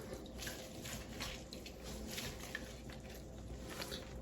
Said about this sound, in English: You're just going to squeeze out the water